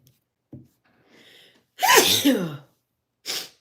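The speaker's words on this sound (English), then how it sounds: "I gotta sneeze again." A single loud, close sneeze with a sharp intake before it, followed by a brief sniff or exhale; no talking.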